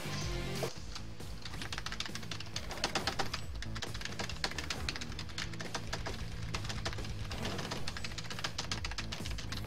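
Rapid, hard clicking on a computer keyboard in a fast, dense rhythm of keystrokes that stays close and runs steadily throughout.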